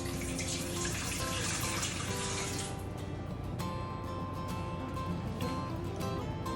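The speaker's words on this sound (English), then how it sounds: "take a warm water and put it in the first basin." Warm water runs steadily into a washing basin used for cleaning and sterilizing baby bottles, a continuous soft splashing hiss at moderate distance with faint drips and clinks, no voices.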